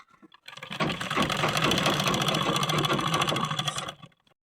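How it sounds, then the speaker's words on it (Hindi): An electric sewing machine stitches a petticoat waistband, starting after a brief pause and running in a steady, loud, fast mechanical chatter for about three seconds before stopping, with no talking. "इस प्रकार से चारों कलियों में एक एक चौड़ा चौड़ा घूम देते हुए सिलाई करते जाना है"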